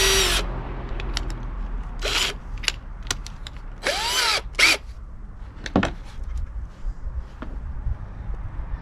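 A power drill with a step drill bit whirs in short bursts close by while drilling a one-inch hole on an Old Town Sportsman 106 kayak, pausing between runs, with occasional clicks and ratcheting over a steady low hum.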